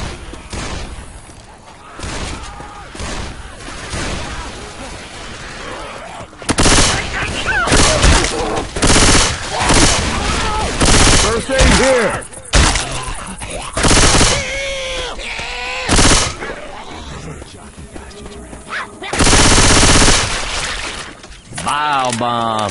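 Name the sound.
gunfire from the video game Left 4 Dead 2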